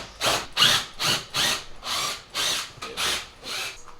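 A power drill backs out fasteners from a car's carbon fiber front splitter in about nine short, even bursts, each a loud whirring spin with brief pauses between, close by with no talking.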